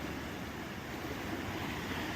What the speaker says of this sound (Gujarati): કેવડું પાણી વાહે મોજા મારતું જાય પાણી